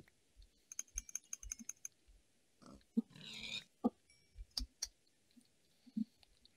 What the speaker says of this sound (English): Oh, look, pigs.